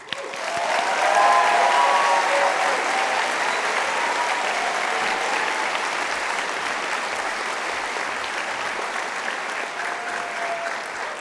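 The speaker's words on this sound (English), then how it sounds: "Congratulations, round of applause." Sustained applause fills a hall at a University of Galway conferring ceremony, a dense, steady wash of many hands clapping at once that swells early and then holds evenly throughout, with no talking.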